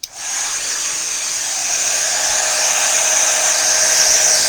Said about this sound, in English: I'm going to turn on my heat gun.